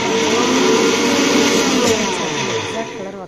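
A mixer grinder whirring loudly and steadily as it grinds dried Kashmiri red chillies into powder, the motor drone close and continuous before easing off slightly at the end.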